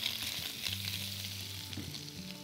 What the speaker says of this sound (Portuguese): aqui eu vou deixar a salsicha só dar uma tostada na frigideira